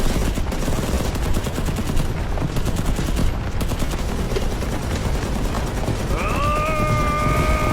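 Rapid bursts of automatic gunfire from a Hindi-dubbed war film crackle continuously and loudly, with a rising electronic tone entering near the end.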